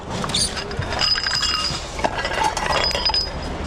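Broken glassware clinking and rattling as shards are sorted through, with bright repeated clinks over a steady rustling background, fairly close and continuous.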